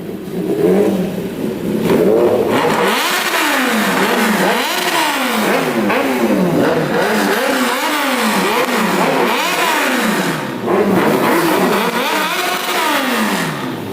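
Kawasaki ZX-10R 2021 motorcycle fitted with a Racefit exhaust, revved repeatedly in loud rising and falling sweeps, the engine note climbing and dropping about once a second, close and sustained throughout with no speech.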